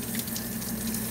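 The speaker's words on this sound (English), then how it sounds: "I'm gonna rinse this and get any oils and stuff that's on it first." Running water from a tap rinses a steel knife blade in a workshop to wash off oils, a steady continuous gush and splash that is close and fairly loud, with no talk.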